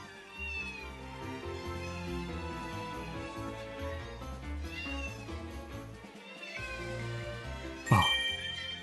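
Siamese cat meowing in the video game London Detective Mysteria, several drawn-out plaintive meows over soft game music, ending with a bright metallic clink near the close.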